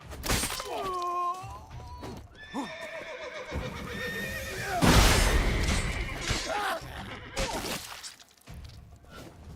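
A horse whinnies loudly several times in The Witcher 3: Wild Hunt, with clattering and thudding impacts and a burst of crashing noise in the middle, game-like and busy.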